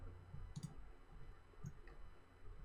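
A computer mouse clicks to select a type tool in Photoshop, a few faint short clicks spaced apart against quiet room background.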